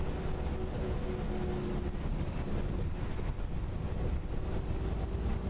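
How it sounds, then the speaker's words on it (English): A bus gearbox whines in third gear, a faint, steady tonal hum sitting over a low rumbling engine drone with some windy noise. "Gear three, oh my days, voice gearboxes are such a vibe to listen to."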